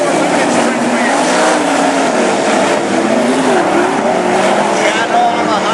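Sprint race cars without wings race on a dirt oval at a national event, engines roaring loud and continuous as the pack circles, with an announcer talking over the noise throughout.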